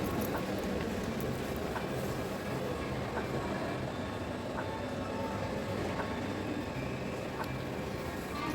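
A passenger train bound for Prague sits at a Czech railway station, giving off a steady, fairly loud rumble and hum with faint clanks, heard without talk.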